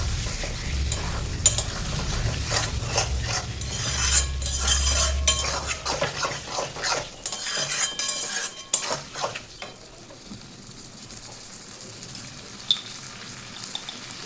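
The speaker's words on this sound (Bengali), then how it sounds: "এবার ম্যারিনেট করে রাখা খাসির মাংসটা দিয়ে দিচ্ছি। মাংসটাকে ভালো করে কষাইতে হবে।" Marinated mutton being stirred and sautéed in oil and spices for a mutton curry, continuous sizzling with repeated scraping and clinking of a spoon against the pan, loud at first and then easing to a quieter fry.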